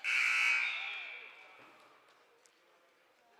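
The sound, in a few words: wrestling match buzzer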